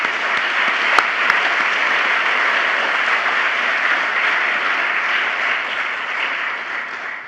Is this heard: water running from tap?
no